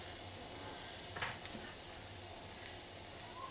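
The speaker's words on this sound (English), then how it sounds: "you see how nicely it sizzles" Steady, faint sizzling of potatoes frying in melted butter in a pan over medium-high heat, a soft continuous crackle with occasional small pops, no voices.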